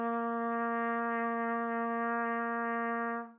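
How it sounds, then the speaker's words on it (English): One long, steady trumpet tone, an open low C, held evenly for over three seconds before fading out at the end. "C is also an open note."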